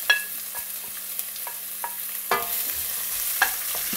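Onions and green chillies added to hot oil with popped mustard seeds, stirred in a pan: a soft steady sizzle under scattered spoon scrapes and light clinks, fairly quiet and with no talking.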